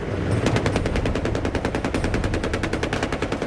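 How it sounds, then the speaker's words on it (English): Rapid, continuous fire from a 30mm helicopter cannon, a dense string of heavy rounds hammering out in one sustained burst, loud and close. "First up, the 30mm cannon."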